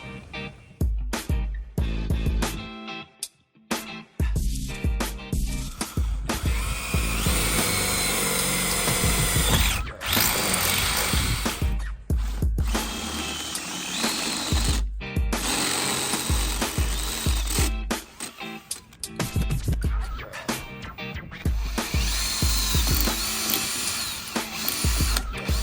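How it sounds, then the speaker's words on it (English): A power drill bores a hole for a bolt during a golf cart light bar mounting, loud, close and continuous, with brief pauses and speed changes as the bit works through. "we're only going to have to drill one hole underneath that hole for the bolt to pass through"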